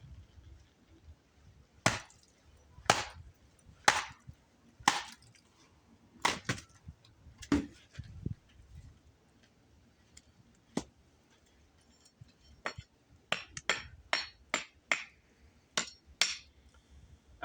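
A kukri with a 12-inch 52100 steel blade strikes while batoning firewood, giving sharp, irregular wooden chops and knocks, sparse at first, then quickening into a rapid cluster near the end, fairly close and clear.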